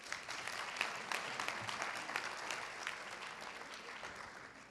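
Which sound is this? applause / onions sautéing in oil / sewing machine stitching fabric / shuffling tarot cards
applause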